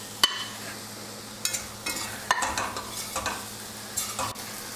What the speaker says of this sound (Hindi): इसमें हम डाल देते हैं ये आलू